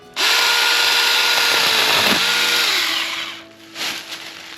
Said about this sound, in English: this is a great little lightweight mini chainsaw